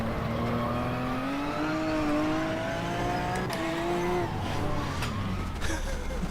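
A race car drifts at night in rFactor 2 at Sebring, its engine droning steadily while rising tire squeals wail over it, with a few sharp clicks and gear changes, under quiet talk.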